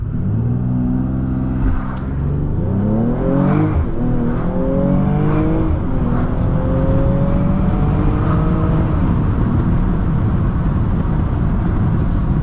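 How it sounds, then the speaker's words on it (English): A Mercedes-AMG GLE 53 launches hard under launch control on a night drive, its engine note climbing loudly through several quick upshifts and then holding a strong, steady pull from inside the cabin. "There's no one behind me, so I'm gonna do a quick launch control for you real quick."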